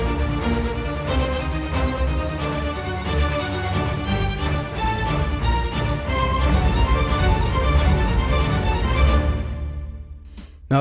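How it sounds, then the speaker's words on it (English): Low orchestral strings rendered with MIDI sample libraries in a neoclassical trailer style, a dense, loud, sustained ensemble swelling over about nine seconds before cutting off abruptly, with no voices. "And if I play the low strings, it's going to sound like this."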